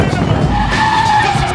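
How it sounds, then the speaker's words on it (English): A drift car built up as a police car skids in a loud, sustained tire squeal with a steady high whine and engine rumble underneath throughout. "And I got into this drift car."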